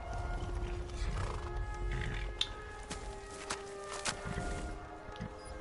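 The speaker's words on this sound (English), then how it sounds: "And apparently there's a horse there." Horse in the video game Skyrim, a clear whinny followed by a few clip-clopping hooves at close range, heard alone without speech.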